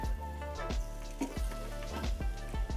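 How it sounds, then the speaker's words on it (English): Steady crackling sizzle of pork belly cooking in an air fryer, with a low hum underneath and irregular soft pops and taps, close and moderately loud, no voices. "So I can already hear it sizzling."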